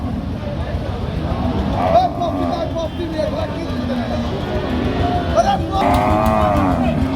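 Cattle mooing repeatedly amid a busy Chaugachha cattle market in Jessore, Bangladesh, during the rainy season, with a crowd's chatter and people talking nearby throughout.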